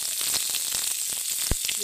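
Ginger paste sizzling steadily in a pan as tomato goes in, a faint continuous crackle broken by soft clicks and one sharper tap of the spoon, without voices.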